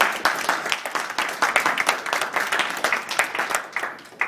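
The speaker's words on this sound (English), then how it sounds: "let's give you guys a round of applause for bolting the modules together" A round of applause for a team at an HP Labs car-building event, steady dense clapping from a small group throughout, close and without speech.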